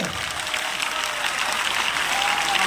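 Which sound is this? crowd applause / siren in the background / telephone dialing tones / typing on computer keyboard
crowd applause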